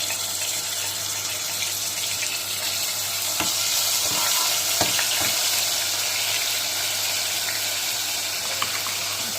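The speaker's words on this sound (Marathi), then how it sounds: "अभी इसमें पहले मैं अदरक लहसुन का पेस्ट डालूंगी। ऑयल गरम हो गया है।" Ginger garlic paste sizzling in hot oil, a loud continuous broadband frying hiss with a few brief crackles and spatters, close up and without speech.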